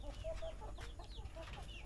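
Chickens, native and heritage hens in their coop, cluck softly in short, scattered bursts, faint and close-ish over a low rumbling background with no talking.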